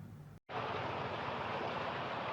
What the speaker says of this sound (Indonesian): Sungai Musi yang membentang di wilayah Musi Banyuasin meluap akibat tingginya intensitas hujan